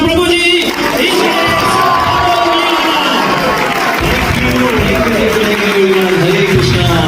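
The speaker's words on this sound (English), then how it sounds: "So, just a big round of applause for Prabhuji!" A lively crowd at a university seminar hall in Mauritius claps and cheers to welcome a speaker, loud and close, with whoops and shouting voices rising over sustained applause throughout.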